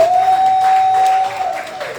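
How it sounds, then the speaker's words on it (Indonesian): A church congregation at a Sunday service claps loudly for God; the clapping comes as a diffuse wash under a steady sustained tone that drops out near the end, with the applause thinning slightly afterward. "Tepuk tangannya kencang pada Allah kita katakan."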